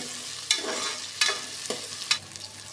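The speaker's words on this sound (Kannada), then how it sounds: "ಸ್ವಲ್ಪ ಹಸಿ ಸ್ಮೆಲ್ ಹೋಗೋ ಉಂಟು, ಎಣ್ಣೆಲೆ ಫ್ರೈ ಮಾಡಿ." Onion-free masala paste stirred in hot oil for vangi bath, a South Indian brinjal rice, with a spatula scraping the pan several times over a steady soft sizzle.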